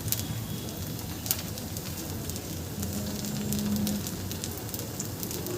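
Rava veg pola batter, semolina mixed with vegetables, spread on a hot pan, giving a steady close sizzle and crackle with a soft hiss throughout and no talking.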